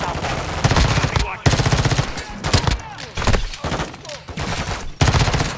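Gunfire in the video game Call of Duty: Modern Warfare 2, loud bursts of rapid automatic shots in close succession with brief gaps between the volleys.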